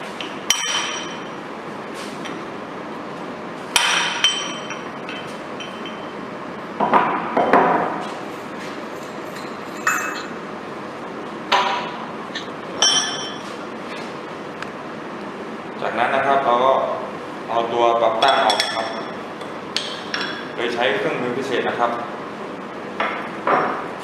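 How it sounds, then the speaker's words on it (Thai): Sharp metallic hammer strikes on a brass drift ring out repeatedly at an uneven pace, removing a ring from a recirculating-ball steering assembly, with clinks and short bursts of clustered blows, close by. "ตอนถอด แหวนลอกออกนะครับ โดยใช้ แท่นทองเหลืองนะครับ แล้วก็ค้อน นะครับปีออกนะครับ"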